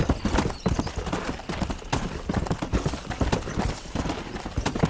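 Horse hooves clip-clop steadily at a walking pace in the Red Dead Redemption video game, a continuous close rhythm of hoofbeats with faint ambient sound behind.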